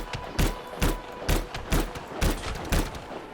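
Marksman Rifle fire in the video game Anthem: eight sharp, evenly spaced shots crack out roughly twice a second, each with a short booming tail, with no voices.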